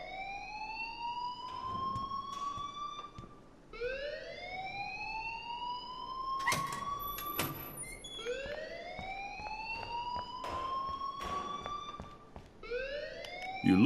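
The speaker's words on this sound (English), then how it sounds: "please turn off that alarm since that's your job" A school fire alarm in the video game Life Is Strange sounds in repeated rising electronic sweeps, each about three seconds long, steady and prominent, with a few brief clicks and clatters between them.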